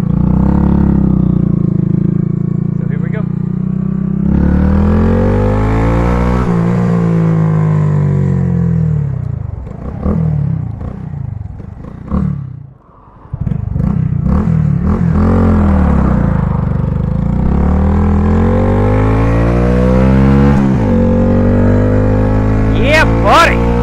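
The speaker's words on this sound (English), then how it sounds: "Wide open throttle!" A Honda Grom motorcycle climbing Mount Scott revs hard at wide open throttle, its engine pitch rising and falling through repeated loud sweeps. One brief dip in the middle is followed by more sustained, close-up revving.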